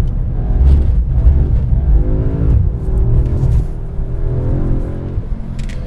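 An Audi S3 facelift is driven hard on a race track, its engine loud and close, rising and falling through revs in smooth surging sweeps, with no voices.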